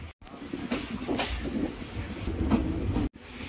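A Rewari–Delhi passenger train runs along the rails, a close, steady rumble and rattle of the carriage in motion with rhythmic clatter and a brief drop-out near the start and end.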